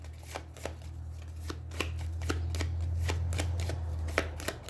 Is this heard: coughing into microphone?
no